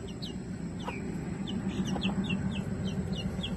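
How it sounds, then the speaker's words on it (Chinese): Young chicks cheep and peep repeatedly in quick high chirps, close by, over a constant low background hum. "这只小鸡又来了"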